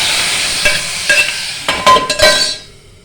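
Spices tempering in hot oil for a bitter gourd curry, a loud sizzle with a few sharp clinks of a utensil against the pan, fading out at the end.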